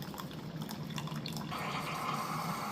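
Coffee trickles from a Keurig brewer into a cup in a steady, close liquid patter that grows slightly fuller and smoother partway through, with no voices.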